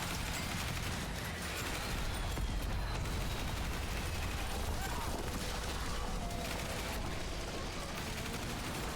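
Turret gunfire and explosive bombing in a zombie survival video game make a dense, continuous barrage of rapid shots and blasts. The noise stays loud and unbroken throughout.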